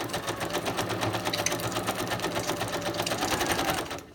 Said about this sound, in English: I'm just going to slip that under there and stitch over again.